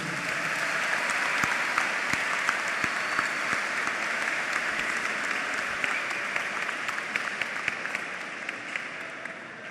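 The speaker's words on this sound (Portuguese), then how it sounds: "Uma salva de palmas para eles, por favor." Steady applause from an audience for professors at a university candidate debate, an even crowd clapping throughout with no talk over it.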